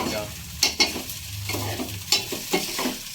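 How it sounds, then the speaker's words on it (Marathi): Okra sautéing in a pan, a close sizzle broken by several sharp clinks and scrapes of the spoon as the pieces are stirred, no talking. "मम्मी टाकते भेंडा असे परतून घेते"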